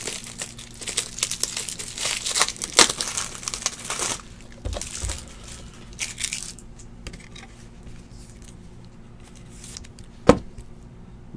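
A sports card, a numbered rookie patch autograph, slid into a plastic top loader: crinkling plastic rustles and scrapes up close, with a sharp tap near the end and quieter handling between.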